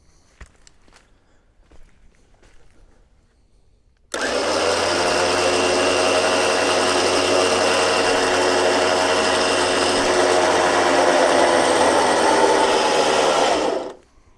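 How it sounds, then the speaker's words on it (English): A vehicle winch pulls its cable, extended with a GearAmerica tree saver strap as a line extension, producing a loud, steady mechanical whine and hum that starts abruptly after a few seconds of quiet and cuts off near the end. "So now we're ready to winch."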